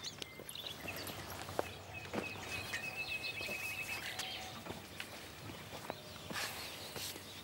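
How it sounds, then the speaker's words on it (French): Nightingales singing in spring in the Camargue, thin chirps and whistled phrases at moderate distance over a quiet outdoor background, with soft footsteps or hoof sounds nearby. "Les rossignols."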